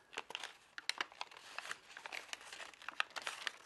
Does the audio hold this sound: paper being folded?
yes